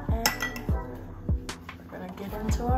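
Metal utensil clanking and scraping against a bowl while mixing fish batter, in quick irregular strokes, several sharp clinks over about three seconds, close up.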